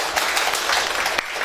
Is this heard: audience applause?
yes